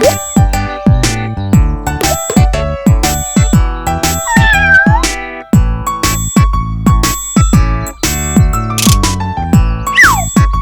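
Cartoon kitten meowing in a children's animated story, several bright sliding meows scattered among bouncy boings, dings and jingly musical effects, loud and close.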